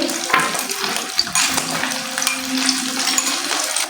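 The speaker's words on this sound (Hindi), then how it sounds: "सारे कटलेट्स हम इसमें ऐड करते जाएंगे।" Potato cutlets (aloo tikki) coated in egg frying in ghee in a pan, a steady close sizzle and crackle with occasional small clinks, and no talking.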